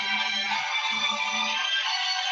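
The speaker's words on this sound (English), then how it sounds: "I think someone's phone is ringing." A mobile phone rings during a presentation, a steady electronic tone with harmonic layers sounding continuously and fairly loud, with a faint low warble beneath.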